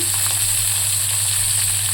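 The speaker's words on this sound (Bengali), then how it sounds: "গ্যাস চালু করে দিয়েছি একদম সামান্য সামান্য তেল দিয়ে পাঁচ পাঁচ মানে অল্প কটা জিরে দিয়েছি" A few cumin seeds sizzle in a small amount of hot oil in a pan, giving a steady, even hiss throughout.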